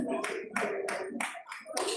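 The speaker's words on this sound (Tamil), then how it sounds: "இதோ பலத்த கரகோஷங்களுக்கு மத்தியில் நன்றி." At a Tamil school event, a small group claps in loose, uneven bursts, a few close, sharp hand claps separated by short gaps, with children's voices mixed in.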